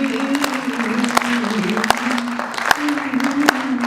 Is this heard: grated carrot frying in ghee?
no